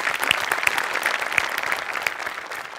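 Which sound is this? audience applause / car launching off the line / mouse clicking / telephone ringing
audience applause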